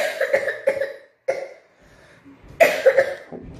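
A person coughs several times in short bursts, close and fairly loud, with pauses between coughs and a final cluster of harsh coughs near the end.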